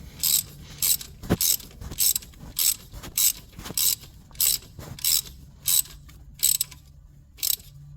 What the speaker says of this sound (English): You're going to need to start with a ratchet and a 14mm just to kind of get it tightened up a little bit.